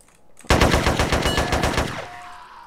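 A gun fires a rapid automatic burst in GTA San Andreas multiplayer, about a dozen loud, evenly spaced close shots over roughly a second and a half, then a fading echo, with no voices.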